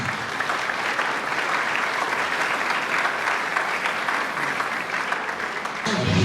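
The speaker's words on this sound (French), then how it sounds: "nous puissions les saluer et les accueillir par nos applaudissements" Members of a Christian congregation at a priest's funeral applaud together, a full, even wash of clapping that holds steady and swells slightly in the final moments.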